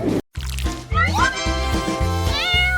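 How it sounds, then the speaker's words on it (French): A ginger kitten meows several times in quick succession, close and clear, with rising and falling cries over a faint rhythmic background. "Voyez le chaton roux le plus mignon du monde."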